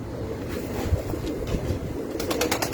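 Pigeon on a rooftop loft gives low, soft cooing calls, repeated in a slow rhythm close by, with a few sharp flutters or taps near the end.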